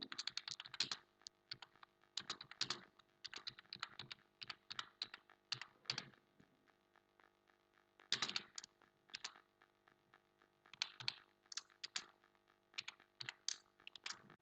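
Someone types on a computer keyboard up close, with bursts of quick key clicks separated by short pauses in a quiet room.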